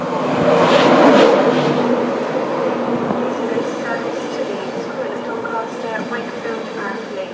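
Train approaching platform 4 at Peterborough station, an East Coast service to Leeds, rumbling and squealing near the platform, loudest at first then settling into a steady roll, with a station announcement voice over it.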